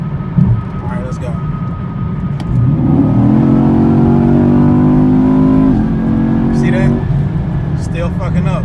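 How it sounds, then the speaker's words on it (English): A car with an 8-speed automatic accelerates hard in track mode, its engine note rising steadily through the gears with shifts that land harder than they should; loud and close, inside the cabin, with voices partly over it. "this car, I know how this 8-speed shifts, and it's supposed to just glide through the gears"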